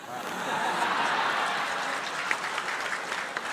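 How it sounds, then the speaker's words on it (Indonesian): Studio audience applause at an Indonesian political Q&A event, a dense steady wash of clapping that swells and holds throughout, with a few sharper claps and faint chuckles near the end. "Kita berikan tepuk tangan pada serangan rapid fire"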